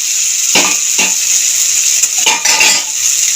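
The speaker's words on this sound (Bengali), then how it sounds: "আগে থেকে যে আলু ভেজে রেখেছিলাম আলুটাও দিয়ে দিলাম" Fried potatoes dropped into a pan of sizzling spice masala for dumurer dalna, a loud steady sizzle with a few scraping stirs and clinks near the start and end.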